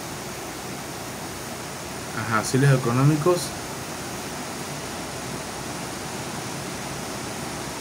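A heavy rain downpour in Panama makes a constant broadband hiss throughout, with someone briefly speaking over it midway.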